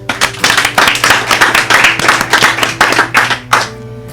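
Applause from a studio audience on a music show, heard as loud, close clapping in uneven bursts with a low hum beneath, stopping abruptly near the end.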